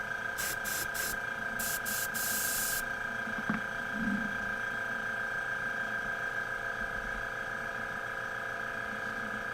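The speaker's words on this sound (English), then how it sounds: "The old compressor kicking on." An old air compressor for airbrush painting runs with a steady, constant hum and hiss throughout, with a few short sharp bursts early on and a faint clunk midway, no voices.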